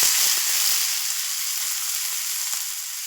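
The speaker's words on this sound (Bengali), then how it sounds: "পেঁয়াজগুলো দিয়ে দিলাম" Chopped onions with cumin seeds sizzle steadily in hot oil, a close, even hiss with a few faint pops and crackles, no voices.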